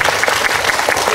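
A film screening audience at a guest talk event bursts into brief, loud applause, a close, dense burst of many hands clapping together with no speech over it.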